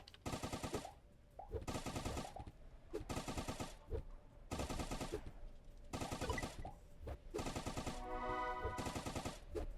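An SMG fires in a video game in repeated long automatic bursts, each a rapid rattle of shots separated by short pauses, loud and close, with no speech over it.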